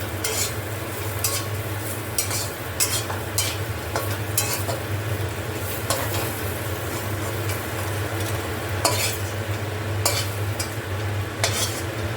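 Sliced bitter gourd frying in oil in a wok, a steady close sizzle with repeated scraping stirs of a spatula against the pan throughout, no talking.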